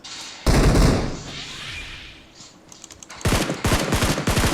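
Bursts of automatic gunfire in PUBG Mobile, a loud volley at the start, then quieter sounds before a rapid string of sharp shots near the end.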